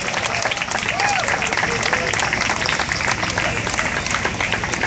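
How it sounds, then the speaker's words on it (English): An outdoor crowd at a powwow honouring athletes at Fort York, Toronto, claps in a sustained dense wash of applause at close-to-middle distance, with no gaps and little voice over it. "I think they deserve a round of applause."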